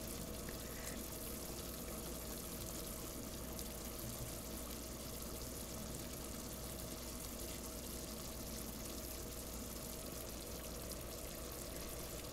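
Fresh Damask rose syrup boiling steadily in a pot, a continuous dense bubbling and simmering hiss that stays even and close throughout with no talking.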